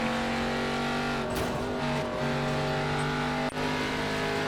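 A race car engine holds full throttle in an iRacing NASCAR ARCA Series race at Twin Ring Motegi, a steady, loud, buzzing drone that barely wavers for several seconds, with no talking.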